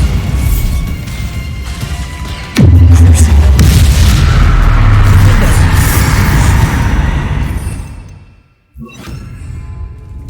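A Bombarda explosion spell goes off in the Hogwarts Legacy game: a sudden loud boom with a deep rumbling tail that fades over several seconds, over a continuous game background, followed by a brief dip and a lighter impact.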